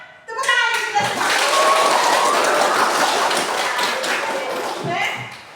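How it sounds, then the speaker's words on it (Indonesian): Classroom of students clapping together at the end of a lesson, a dense steady patter of many hands with children's voices chattering over it throughout. "Tepuk tangan untuk kita semua"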